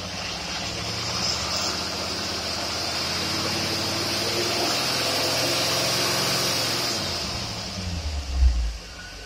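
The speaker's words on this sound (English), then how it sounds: "Now we're going to do the dyno test. And here the dyno is on." A car engine fitted with a Rochester Cadillac carburetor runs steadily on a dyno, a close, even droning roar with a brief low thump near the end.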